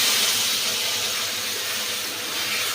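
A mustard and green chilli paste sizzles in hot oil for a fish jhal, giving a continuous, even hiss with a steady frying crackle and no pauses.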